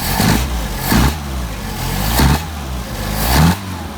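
An engine fed by multiple Solex carburetors revs in four strong bursts, each rising and falling back toward idle in a steady rhythm during a throttle response test, close and loud with no talking.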